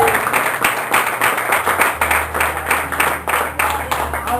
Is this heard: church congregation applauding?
yes